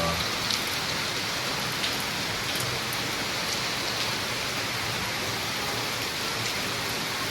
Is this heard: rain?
yes